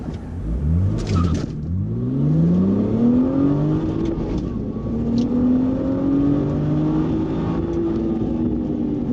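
Lamborghini launching hard with traction control fully off, the engine roaring up through the revs in strong rising sweeps, a brief shift break near the start, then pulling loud and sustained as the car accelerates away.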